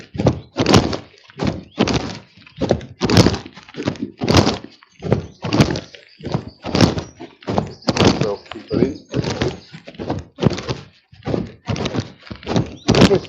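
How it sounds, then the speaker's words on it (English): Footsteps on an outdoor nature walk fall in a steady, close rhythm of heavy thudding steps that continues throughout. "If the walking sound is too much, I'll maybe go and find a bench and just sit down perhaps."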